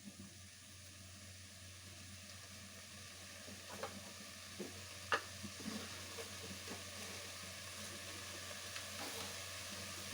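Green gram gravy stirred in a pan, with a steady soft sizzle and bubbling and scattered light scraping taps of the spoon against the pan, fairly faint and with no talk.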